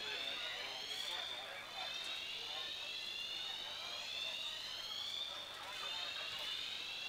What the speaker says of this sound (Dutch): er gaat een brandalarm af